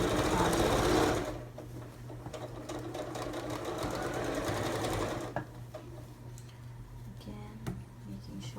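Steady whirring stitching from a sewing machine sewing a mounted-front envelope-back cushion cover, louder for the first second and then continuing at a lower level with faint ticking, close by.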